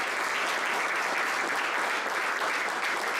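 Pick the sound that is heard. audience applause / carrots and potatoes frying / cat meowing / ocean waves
audience applause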